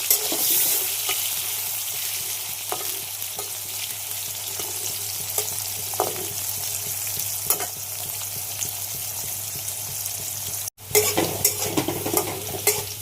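Potato pieces frying in a pan of hot oil while fish curry is cooked at home: a steady, continuous sizzle with occasional stirring scrapes, broken by a brief cut near the end before the frying resumes.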